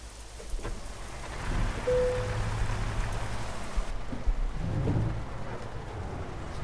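Steady downpour of heavy rain in the American Truck Simulator video game, with a deep rumble beneath like distant thunder, continuing without speech throughout.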